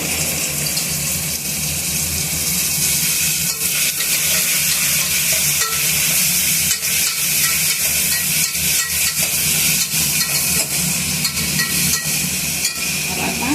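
Cucumber pieces fry in a pan for a Guntur-style mixed vegetable curry, giving a steady close sizzle and occasional stirring clatter that runs continuously throughout.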